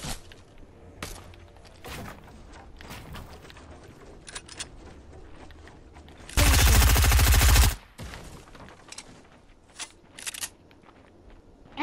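Gunfire in a Fortnite match: scattered sharp shots, then a loud sustained burst of rapid fire lasting over a second, followed by a few more faint cracks. No one talks.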